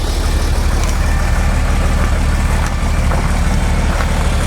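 A 1931 Chevrolet engine runs on choke with a steady, even idle, close and loud throughout, with a constant low rumble and no talk.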